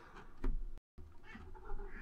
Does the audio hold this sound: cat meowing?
yes